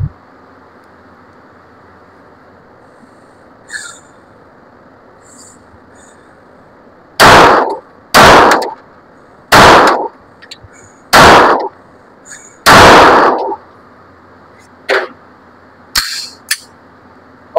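An Armscor STK100 pistol fires reloaded ammunition at a range: five sharp, loud shots spaced about a second apart, followed by fainter clicks and handling noises, with a faint steady background hiss.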